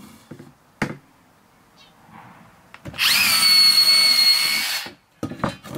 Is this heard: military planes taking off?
no